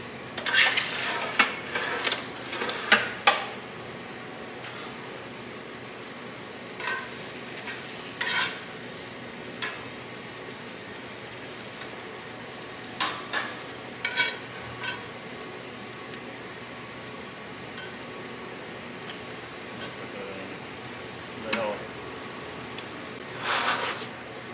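Giant pieces of meat sizzle and brown over a wild open fire with a constant low frying hiss, broken by clusters of metallic utensil clatter and scraping that recur throughout.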